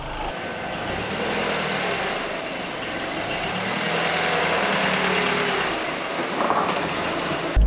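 A Vauxhall Zafira GSI with a Z20LET engine running at idle after a fresh crankshaft, a steady, dense close-up engine drone with a slight murmur that holds evenly throughout.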